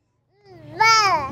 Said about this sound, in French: Le bébé émet un son et la mère répond par le même son.